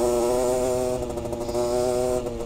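Enduro motorcycle engine running close by while riding, a steady buzzing drone with strong harmonics and slight fluctuations in revs, loud and continuous with no talk.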